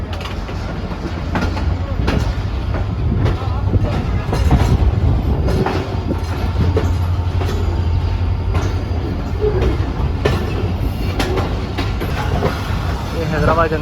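The 151UP Shah Latif Express rumbles steadily on its run toward Hyderabad, with loud, continuous wheel and carriage noise, rhythmic rail clicks and rattling car mechanisms heard from on board.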